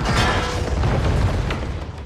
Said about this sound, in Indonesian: mereka memasang bom yang diberikan oleh Margarita dan meledakkan beberapa tiang di markas tersebut